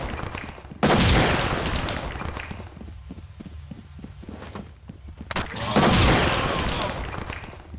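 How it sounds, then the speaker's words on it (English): Two heavy bursts of automatic gunfire from a SWAT 4 multiplayer match, loud and dense, separated by a quieter stretch of scattered single shots and thumping footsteps. "Shooting each other."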